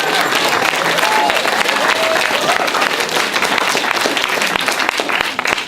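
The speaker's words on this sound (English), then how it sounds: "let's give this family and all their wonderful supporters, including everyone attending tonight, a big round of applause" Loud, sustained applause from the audience at an evening community event welcoming a returning speaker, dense clapping filling the room with a few faint voices mixed in.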